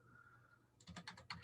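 Quick burst of computer keyboard typing, several close, crisp keystrokes in an uneven rhythm after a brief steady tone, with no talking.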